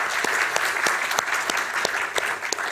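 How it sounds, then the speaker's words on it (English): Applause for the speakers at a symposium on cooperative societies, a dense crowd clapping steadily at moderate volume with a few sharper claps standing out, and no talk over it. "Let's give them a big round of applause again."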